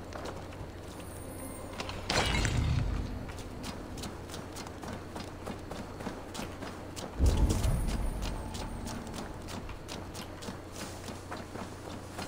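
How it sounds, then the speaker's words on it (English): Hooves clip-clop from a horse being ridden in Assassin's Creed Valhalla, a steady walking rhythm over game ambience, with two louder low thuds breaking in along the way. "Now to deliver Magni his horse."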